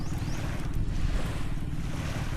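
Cool wind blows steadily over a Thai seaside beach campground, buffeting the microphone with a constant low roar while surf rushes underneath, with no voices.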